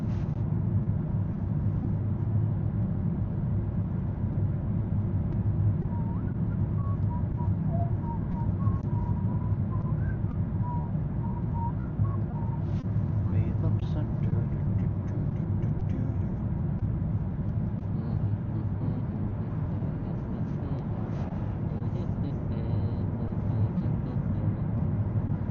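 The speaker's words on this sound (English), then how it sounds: "I'm looking forward to getting a new car. So much noise from this one when I'm driving" Steady low road rumble and engine drone from a car driving to work in Norway, continuous and fairly loud throughout, with faint chirps and brief higher clatter on top.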